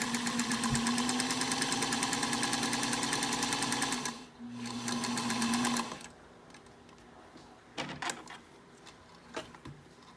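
A sewing machine stitches fabric with a fast, steady mechanical whir for about four seconds, pauses briefly, runs again for a short burst, then falls to scattered clicks and handling noises.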